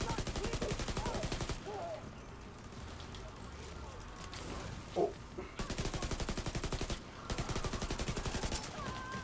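Rapid automatic gunfire in The Division 2 rattles in long sustained bursts, pauses for a few seconds, then resumes in further fast bursts, with a voice speaking briefly in the lull.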